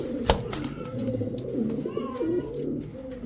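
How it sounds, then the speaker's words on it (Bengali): Male cobra pigeon cooing in its cage, a close, low, rolling coo repeated several times, with a sharp knock at the start and faint background voices. "যারা জিএনএস কোবরা নরের ডাক দেখতে চান"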